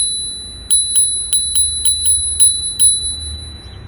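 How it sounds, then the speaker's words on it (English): A handlebar bell on a Gyroor folding electric bike rings eight times in quick succession, bright metallic dings close up over a faint background hum. "And here's the bell."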